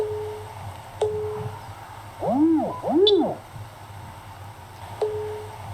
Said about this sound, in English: A putting metronome, essentially an audio aid to help you consistently get your putting stroke on the same rhythm.